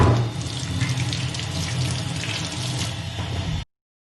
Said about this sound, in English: First thing we're gonna do is wash the potatoes.